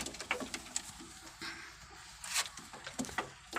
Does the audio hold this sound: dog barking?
no